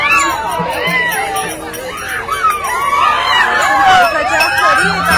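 Schoolchildren in a rainy Vitthal dindi procession make a continuous, close crowd hubbub of chatter and excited shouts, with cheering rising and falling throughout.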